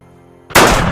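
A single loud gunshot from a revenge action film cracks out sharply halfway through, following a quiet ambient stretch, then rings out in a broad sustained tail.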